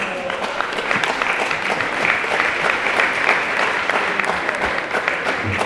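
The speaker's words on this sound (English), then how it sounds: "Let us give him a warm welcome with a hand of applause" A church congregation applauds to welcome a speaker at a Portuguese Mass anniversary celebration, with sustained, even clapping from a sizeable crowd that fills the space and holds steady throughout.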